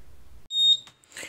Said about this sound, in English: I also have the buzzer.